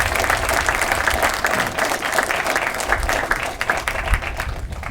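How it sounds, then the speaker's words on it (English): Wedding guests give the bride a warm round of applause at the ceremony, with steady, dense clapping from a sizeable crowd that fills the space evenly from start to finish. "How about we start with a big round of applause for Liz, ladies and gentlemen"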